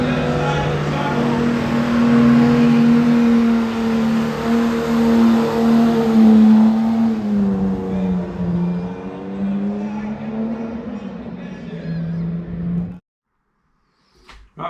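A Nissan 350Z holds a burnout through a tunnel at the Coventry Motofest sprint, engine droning loud and steady with shifting pitch and echoing off the walls for about thirteen seconds before cutting out abruptly.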